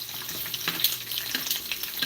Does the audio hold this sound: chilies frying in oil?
yes